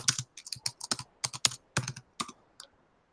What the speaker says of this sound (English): I can actually type it in the chat. Kennedy.